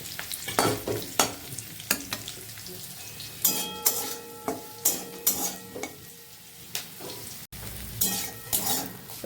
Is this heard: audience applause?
no